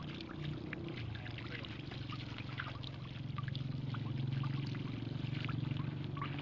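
A solar submersible water pump runs and water pours out in a steady, close flow, with a low hum underneath and faint voices in the background.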